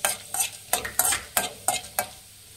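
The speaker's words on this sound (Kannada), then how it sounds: "ಎಣ್ಣೆ ಕಾಯ್ದಿದೆ, ಕಡಲೆಬೇಳೆ ಹಾಕೊಳ್ಳೋಣ. ಫ್ರೆಂಡ್ಸ್ ಒಂದು ಸ್ವಲ್ಪ ಚೆನ್ನಾಗಿ ಫ್ರೈ ಮಾಡಿ" Chana dal frying in hot oil for Mangalore cucumber sambar, with a steady sizzle broken by about seven sharp scraping stirs of a spoon in the pan, close and fairly loud, no voices.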